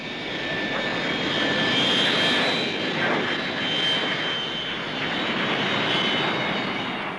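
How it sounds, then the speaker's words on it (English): A Comet 4 jet airliner using reverse thrust on landing at the 1959 Farnborough Air Show gives a loud, sustained broadband jet roar with a faint high whine, swelling gently, heard close and alone. "The standard Comet 4 is already in service with BOAC and other airlines. The use of reverse thrust enables it to operate from quite small airfields."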